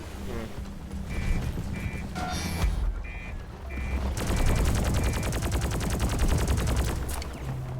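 Minigun fire in Deep Rock Galactic: a long, loud, rapid rattling stream that kicks in partway through, over game beeps and ambient rumble.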